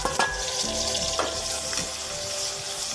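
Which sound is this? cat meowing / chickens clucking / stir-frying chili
stir-frying chili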